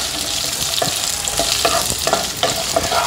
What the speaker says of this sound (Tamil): நம்ம கட் பண்ண ஆனியன் அண்ட் கேப்சிகம் இருக்கு இல்லையா, எல்லாம் போட்டுற வேண்டியதான்